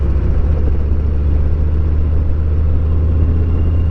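A motorcycle pulls away on a Blue Ridge Mountains road, its engine a loud, steady low rumble throughout with no voices.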